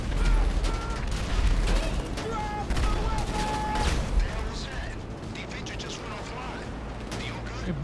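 Gunfire and airstrike blasts from GTA Online crackle in rapid, dense bursts, with sharp repeated shots and booming hits layered loudly over one another.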